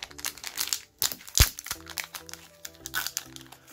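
Foil wrapper of a five-card trading card booster pack being cut and torn open with a knife, giving close, brittle crinkling and crackling with one sharp tearing burst partway through.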